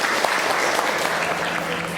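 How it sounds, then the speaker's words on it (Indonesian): A classroom of students applauding a classmate, dense continuous clapping from many hands, close and even in loudness throughout, with no talking over it. "Oke, tepuk tangan untuk Peggy."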